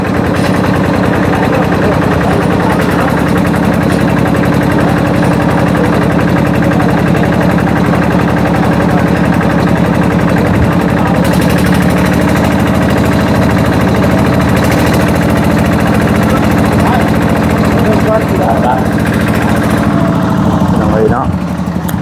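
The engine of a groundwater well drilling rig runs loudly and steadily throughout, a constant mid-pitched drone with vibration, and someone talks over it.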